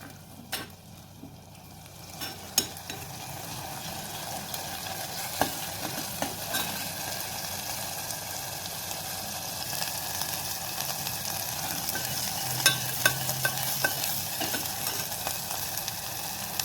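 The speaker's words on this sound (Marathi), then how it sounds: "वाटण छान तेलात परतवून घेऊ आपण" Ground masala paste being stirred and fried in oil for black-gravy matki usal, a steady close sizzle with scraping spoon strokes and occasional clinks, no voices.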